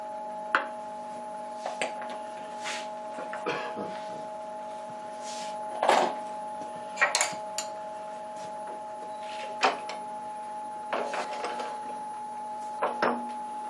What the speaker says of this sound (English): so we have the normal lathe underneath that, if we turn it on,